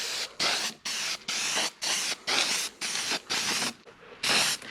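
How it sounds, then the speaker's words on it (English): An aerosol can sprays weld-through primer onto battery tray and rear bumper bracket metal on a 1960 Volkswagen Beetle, in about nine sharp, loud hissing bursts separated by brief gaps, close up and with no talking. "we're doing some weld through primer."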